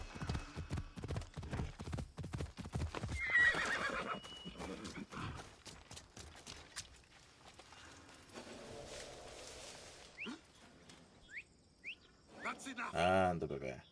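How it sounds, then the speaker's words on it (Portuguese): A horse in Assassin's Creed Odyssey clip-clops along at a steady gait, then gives a sharp neigh near the end, with birds and crickets faint in the background and a voice talking over parts of it. "Olha aqui um cavalo abandonado."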